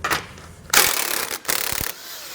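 A hand ratchet works loose 21mm bumper nuts, with two distinct bursts of rapid clicking separated by a short pause, close and fairly loud, no speech.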